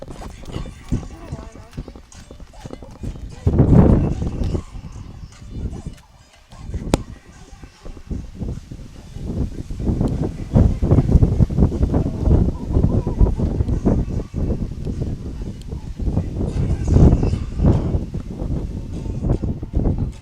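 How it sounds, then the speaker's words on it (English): Strong gusting wind of 15 to 20 miles an hour buffets the microphone at an outdoor rugby match in light rain in St. Charles, a loud broadband roar rising and falling for the whole stretch, with a commentator's voice talking throughout. "Literally the wind's just blowing 15, 20 miles an hour, spitting rain."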